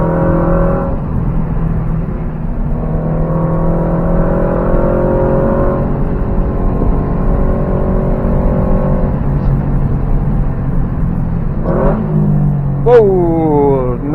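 A car engine revs hard on a winding mountain road, droning steadily through a long pull before blipping sharply for a quick downshift, heard close from inside the cabin with brief passenger talk.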